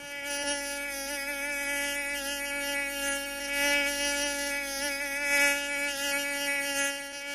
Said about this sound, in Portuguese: A sensação é que tem um pernilongo dando grau de moto no seu ouvido